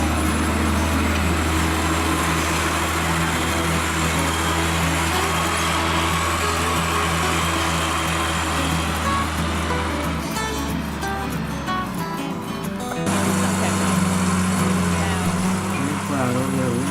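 Steady mechanical engine drone of a tractor at work on a construction site, a loud continuous hum with a low steady tone that shifts pitch partway through, close to the listener.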